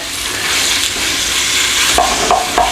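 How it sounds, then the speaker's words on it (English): Steady, close sizzling of pork frying in a pan, a continuous crackling hiss with a few brief scrapes near the end. "In with our pork. Just give it a nice and steady little cooking round in there."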